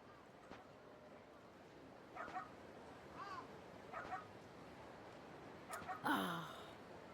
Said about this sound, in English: now we can hear the doggo barking